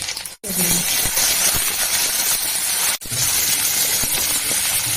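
Onion, cardamom and a dried red chilli sizzle in frying oil for an egg curry, making a dense, loud, continuous hiss that breaks off twice for a split second. No speech.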